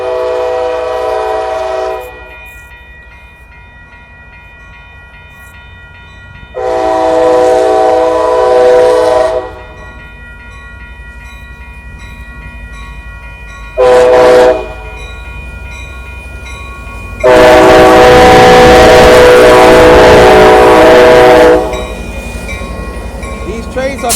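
An Amtrak Capitol Corridor train, train #529 led by F59PHI locomotive 2003, rolls slowly through the 98th Ave railroad crossing in Oakland, CA, sounding several loud horn blasts of varying length, the final one long and loudest, over a low rail rumble.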